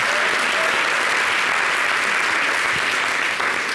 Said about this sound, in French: Vous pouvez applaudir pour elle